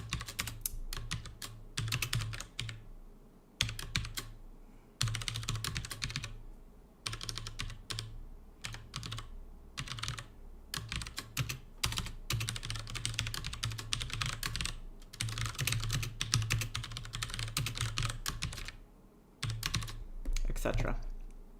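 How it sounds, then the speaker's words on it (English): Keys clatter on a computer keyboard in quick, uneven bursts separated by short pauses, close and clear throughout with no voice over them. "Obviously, I cannot type very well today."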